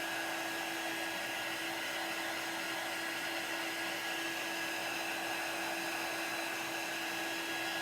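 A hair dryer blows steadily and loudly for the whole stretch, drying a chalk paste design, a constant whooshing motor hum with no pauses and no talking.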